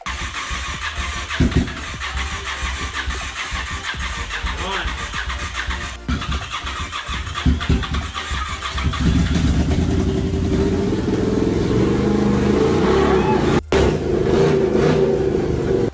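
A Honda VTR1000F motorcycle engine cranks and catches with loud, uneven bursts before settling into a steady, close rumbling idle and revving over the back half, with a brief cutout near the end and some talk early on.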